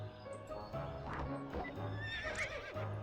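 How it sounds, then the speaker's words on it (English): In the To The Moon video game, a horse whinnies in a rising neigh between muffled clip-clop hoofbeats and snorts, close and fairly quiet, with no talking. "Is that a dead horse? No, that's an alive horse."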